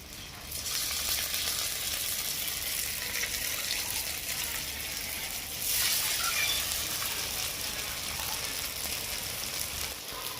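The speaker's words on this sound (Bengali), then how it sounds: "কড়ার মধ্যে দিয়ে দেবো কিছুটা পরিমাণ সাদা তেল এবারে পনিরগুলো ভেজে নেবো" Paneer pieces sizzle in hot white oil in a wok, a steady, hissing crackle that runs almost unbroken and swells briefly about halfway through, with no one talking.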